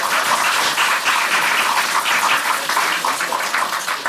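Lawmakers at a party reform caucus launch ceremony burst into loud, sustained applause, a dense steady clapping that fills the hall without pause.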